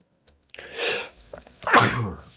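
A person sneezes close to the microphone in a quiet room. A sharp intake of breath is followed by a forceful burst, and a second explosive sneeze comes right after.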